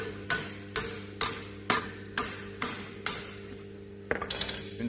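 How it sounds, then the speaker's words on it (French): A hammer taps a pin punch to drive out a retaining pin while a hydraulic breaker is mounted on a mini excavator. Roughly ten metallic strikes land in a fairly even rhythm, moderately close, over a steady low mechanical hum. "Nous tapons avec le marteau."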